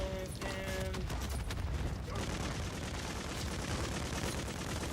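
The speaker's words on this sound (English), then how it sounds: "On your 6, throwing flash grenade." Bursts of gunfire ring out in a shooter video game, with sharp rattling shots in the first two seconds, then dense, noisy battle ambience continuing underneath.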